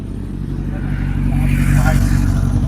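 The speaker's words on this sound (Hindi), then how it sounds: "कावासाकी Z900 था वो" A Kawasaki Z900 motorcycle passes nearby on a road under overcast, rainy-looking weather, its engine building into a loud, rising rumble that holds steady through the pass.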